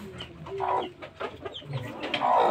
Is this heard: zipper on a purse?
no